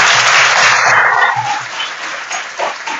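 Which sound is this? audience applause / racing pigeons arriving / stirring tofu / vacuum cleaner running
audience applause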